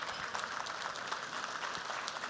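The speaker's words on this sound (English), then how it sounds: "I didn't expect shameless applause" An audience at an economic forecast breakfast applauds in a dense, even patter of clapping that carries on steadily throughout.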